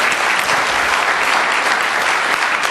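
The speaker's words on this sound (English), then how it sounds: "Give him a round of applause." Steady, dense applause from a conference audience of court administrators, continuous clapping filling the room at close range with no gaps or talk over it.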